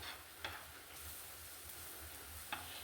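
Spice powders for Kerala-style egg rice sizzle steadily in a pan, a soft continuous frying hiss with a couple of faint scrape clicks from a stirring spoon, quiet and close.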